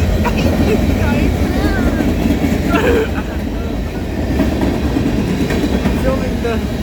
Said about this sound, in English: A whole entire freight train go by.